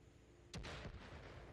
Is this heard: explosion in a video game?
yes